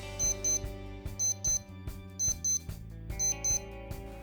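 Paired electronic beeps from a Casio W-54US digital watch alarm repeat in a steady rhythm, four double-beep groups over a low musical background, sharp and clear.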